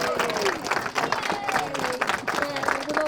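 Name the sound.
audience applause at an election launch event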